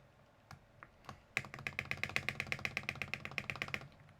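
A soldered KBDFans KBD67 MKII mechanical keyboard being typed on up close: a few isolated key presses, then a steady, even run of roughly twenty crisp, clacky keystrokes in quick rhythm.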